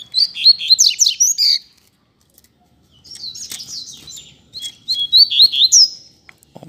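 A pair of coleiro seedeaters (Sporophila) singing outdoors on a street, bright rapid warbled phrases in three bursts separated by short gaps, close and clear over faint low background noise.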